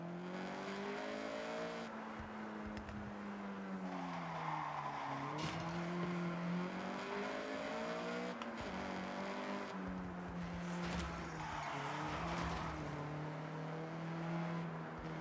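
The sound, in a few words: Honda CRX accelerating in video game Forza 6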